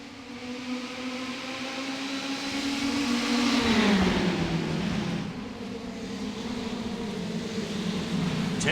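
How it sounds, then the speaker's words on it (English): Ferrari Challenge race cars accelerating off the green flag at Daytona in the iRacing simulator, engines rising in pitch, peaking, then dropping and climbing again as the pack pulls away; a continuous, moderately loud mechanical drone with no talking. "Green flag flies, and we're racing in SCRS Ferrari Challenge from Daytona."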